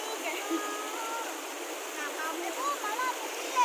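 Water flows and splashes at Nan Chon waterfall in Huai Mai Kaen, Nakhon Si Thammarat, Thailand: a steady broadband rush with a few brief brighter splashes and faint chirps, heard from nearby.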